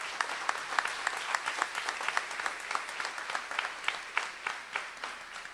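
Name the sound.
congregation applauding in church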